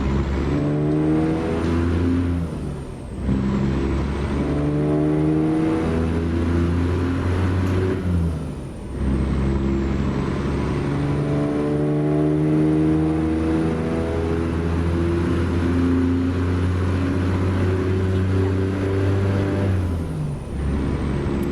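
A heavy semi truck fully loaded with wheat for a grain haul in American Truck Simulator, its engine droning steadily and climbing in pitch through one gear after another, with brief dips at each shift, loud and continuous without talk.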